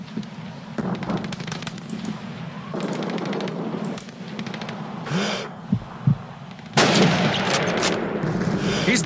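Gunfire in Call of Duty 2's Stalingrad battle: rapid machine-gun bursts crackle in repeated strings, punctuated by louder single rifle shots, with the heaviest, densest volley near the end.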